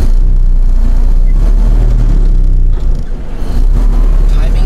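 A 1931 Ford Model A 66A Deluxe pickup drives along with a loud, low engine drone that dips briefly as the gears shift, then picks back up, heard from inside the cab.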